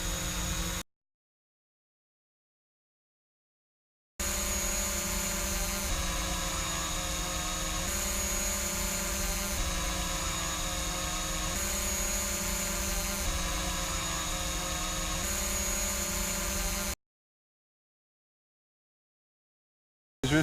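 DJI Mavic drone fitted with low-noise propellers, hovering and flying outdoors, a steady high-pitched buzzing hum with slight rhythmic shifts in pitch, heard alone and cut off by silence at either end.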